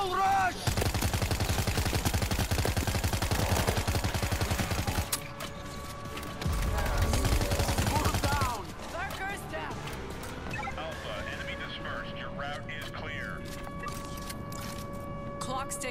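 Compact SMG gunfire in the video game World War Z: Aftermath, loud rapid bursts of automatic shots that stop and restart, with game effects and a voice talking between the volleys.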